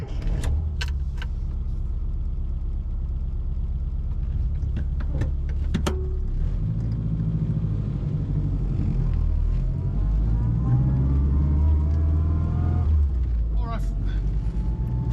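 Classic Mini with a wideband air-fuel gauge pulling away on choke while still cold, a low rumbling engine note that rises in pitch, with clicks and rattles early on and a voice talking over it.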